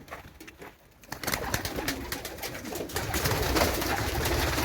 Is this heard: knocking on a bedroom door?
no